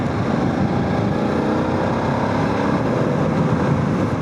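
A 2026 BMW F 900 GS Adventure ridden at speed, a steady broadband roar of engine and wind rushing past, constant and loud throughout with no talk.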